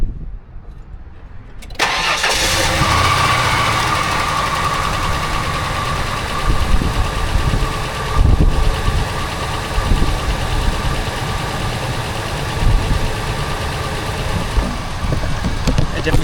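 A van engine with a newly replaced fuel tank cranks and catches, then settles into a steady, loud idle close by with a slightly uneven mechanical rumble.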